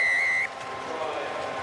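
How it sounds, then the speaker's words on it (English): A referee's sharp whistle blast at a South Africa versus Samoa rugby match, one short shrill tone at the start cutting off quickly into crowd and commentary noise. "they're never going to stop playing until the whistle has been given by the referee"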